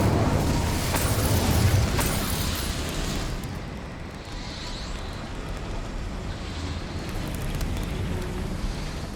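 Incendio fire spell cast in the video game Hogwarts Legacy, a loud roaring whoosh of flame that bursts up at once and then settles into a steady rushing hiss, close and alone without talk.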